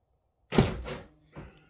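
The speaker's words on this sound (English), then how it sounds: "And the door opens." A TVR convertible sports car door, released by a button under the mirror, swings open with a soft mechanical thunk and a brief rustling swing, followed by a second quieter clunk as it stops, close by with no talk.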